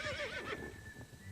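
A horse gives a short, quavering whinny that fades within about half a second, faint and alone.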